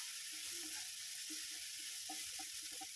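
Grated carrot sautéing with onion and tomato in a pan for an oats breakfast dish gives a soft, steady sizzle with faint scattered clicks of stirring, no voices.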